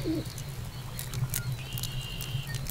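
Pigeon cooing in the hidden-object game Dark Romance: Menagerie of the Monster, a soft, low, steady coo that rolls on through the whole moment over faint background ambience, with a few brief higher chirps and tones above it.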